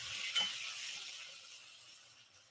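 Bacon cooking down for jam in a pan sizzles softly as a utensil scrapes and stirs it once, then the quiet frying hiss continues and fades slightly.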